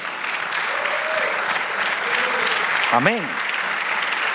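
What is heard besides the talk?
congregation applause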